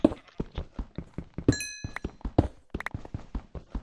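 A pickaxe in Minecraft hacks at coal ore in quick, irregular thunks and taps, close and crisp, with a brief bright chiming pickup sound between the hits.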